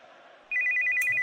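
A telephone ringtone starts abruptly after a quiet half second and chirps in a fast, steady electronic trill, loud and close, with no voices over it.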